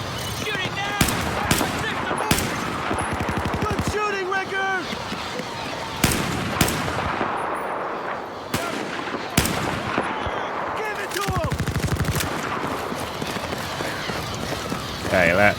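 Gunfire in the video game Battlefield 4 comes as loud, repeated sharp shots and heavy blasts, some in quick bursts, over music and game noise, with voices talking throughout.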